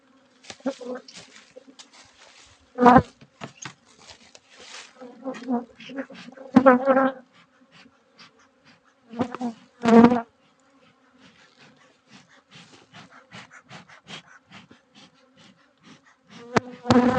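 Honeybees buzz in close, loud bursts that come and go over a faint background hum as a hive is smoked on a Texas ranch, with a few quiet voices nearby.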